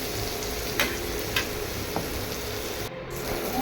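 Tomatoes sautéing in a pan for a Tamil-style fish curry, a close, steady sizzle and fry hiss with a few soft stirring scrapes, no talk.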